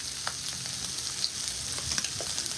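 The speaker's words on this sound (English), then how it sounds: "Let that saute in." Shrimp for scampi sautéing in a hot pan, giving a steady close sizzle and crackle with small pops and faint stirring clicks, and no voices.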